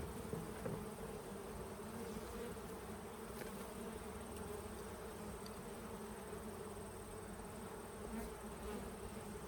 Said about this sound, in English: These bees are starting to get a little stirred, so let's put them back.